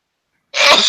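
A single sharp human sneeze bursting in suddenly after half a second of silence, loud and close, with a breathy noisy burst that trails off briefly.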